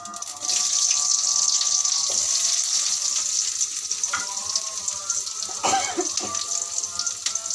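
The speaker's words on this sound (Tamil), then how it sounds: "கடுகு பொரியுது பாருங்கள் சவுண்டு கேட்குதா" Mustard seeds splutter and pop in hot oil in a home kitchen, a loud continuous sizzle with scattered sharp crackles and a few louder bursts, close to the pan.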